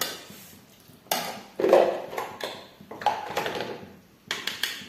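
A karahi wok clatters onto a stovetop while eel curry is being cooked, giving a few sharp metallic knocks and scrapes at close range amid quieter kitchen rattles, with no talking.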